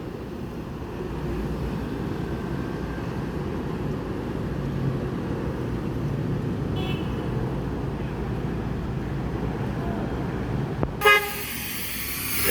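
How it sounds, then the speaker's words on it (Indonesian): A PT Rapi bus passes in front of a bus terminal in Palembang amid a steady low traffic rumble, with a short, sharp horn toot close by near the end. "Ada PT Rapi melintas di depan terminal."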